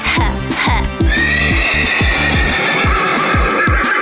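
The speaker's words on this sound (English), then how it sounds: "H is for horse." A horse whinnies loudly over a bouncy music track with a steady rhythmic beat.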